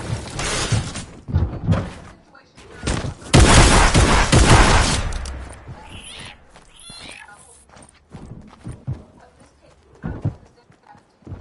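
Flintlock gunfire in a PS4 video game: loud, sharp bursts with one long, heavy blast near the middle, then scattered lighter cracks and clatter fading toward the end.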